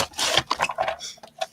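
A paper trimmer slices along a piece of card, giving a short close rasping, scraping stroke followed by a couple of lighter scuffs.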